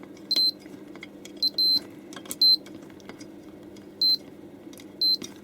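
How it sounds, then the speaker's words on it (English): Short, high electronic beeps from a multimeter diode test in a few separate bursts, some single and some paired, over a low background hum. "One beep shows that it's got a voltage drop."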